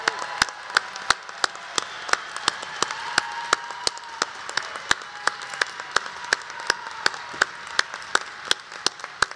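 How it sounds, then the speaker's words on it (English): Commencement audience applauding graduates at a spring ceremony, a steady, dense wash of clapping across the whole stretch with sharp individual claps standing out, no talking over it. "Let's give our graduates a well-deserved round of applause."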